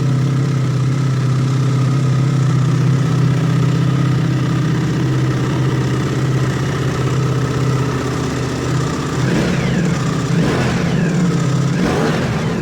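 A 2024 Ducati Multistrada V4 RS with a dry clutch idles close by with a steady, loud mechanical drone, then gives a few quick revs near the end.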